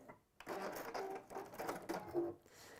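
Home sewing machine running a holding stitch along a 1/4-inch seam, a steady mechanical whir with short stops and restarts across about two and a half seconds, fairly close and alone.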